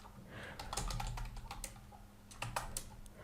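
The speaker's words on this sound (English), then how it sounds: "type your text." Keys clatter on a computer keyboard in uneven bursts of quick, close strokes, with two denser flurries and short pauses between them.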